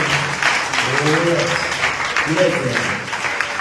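A church congregation claps and cheers in acclaim of God, a dense, steady wash of applause running throughout with voices rising through it.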